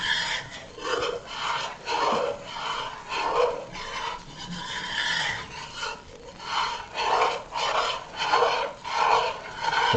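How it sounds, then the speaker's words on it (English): A spoon scrapes around a pot of roux for chicken, sausage and shrimp gumbo in steady, rhythmic rasping strokes, close and continuous for the whole stretch, with no talking. "So you just gotta stir and keep stirring. Stir and stir some more."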